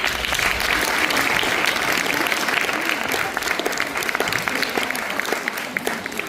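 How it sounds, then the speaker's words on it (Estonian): Sustained audience applause at a school open-stage performance, following a set of Québécois, French-Canadian and Irish music; dense, steady clapping from a crowd fills the whole stretch at an even loudness. "Teeme veel ühe aplausi."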